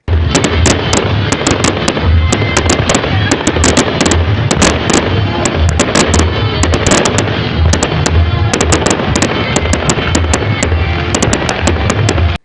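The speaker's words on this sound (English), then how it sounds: "they perform a traditional fireworks display which is believed to send all the evil forces away from the kingdom before the new year" Traditional fireworks display at the Igwe festival ceremonies, with dense, continuous crackling and popping bursts going off loudly and rapidly throughout, no talking.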